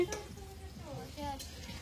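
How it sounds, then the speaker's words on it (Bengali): Capsicum stir-frying in a pan for fried rice, with steady soft sizzling and occasional scraping of a spatula, plus a faint voice and light clinks in the background. "আমার এই গাজর ভাজা হয়ে গেছে, আর এখন ক্যাপসিকামটা ভাজছি।"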